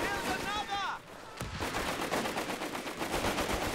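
Mortar and artillery fire in a Company of Heroes match, with a sharp blast near the middle followed by dense, continuous rumbling explosions and gunfire throughout.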